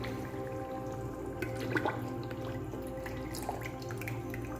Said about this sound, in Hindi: अब हम इसमें लस्सी डालेंगे 1 बोतल